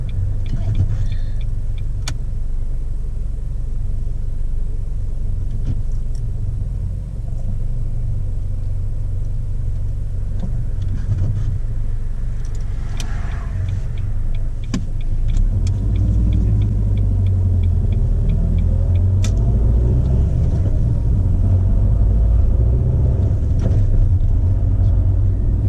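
A car pulls away and drives on during a driving test, its engine rumble swelling as it gets moving, heard steadily from inside the cabin with an indicator ticking and brief talk.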